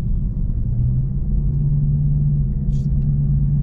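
Low, steady rumble of an old truck engine idling close by, a continuous drone with a faint higher hum running through it and a brief light tick near the end.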